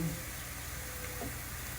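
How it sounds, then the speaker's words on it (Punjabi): A hot tempering for a pumpkin and split chickpea dal sizzles as a steady, soft frying hiss throughout, with no talking. "ਹੁਣ ਆਪਾਂ ਤੜਕਾ ਦੇ ਹਾਂਜੀ ਆਪਾਂ ਤੜਕਾ ਵੀ ਤਕਰੀਬਨ ਹੋ ਹੀ ਗਿਆ ਵਾ"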